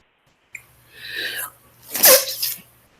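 A single sharp sneeze: a breathy inhale building up, then a loud explosive burst, close by.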